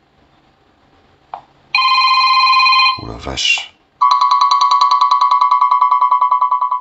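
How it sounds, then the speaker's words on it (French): Ringtone from a UMIDIGI A7S smartphone, a loud electronic melody that plays, breaks off as someone briefly exclaims, then resumes as a steady repeating pattern. "Sonnerie."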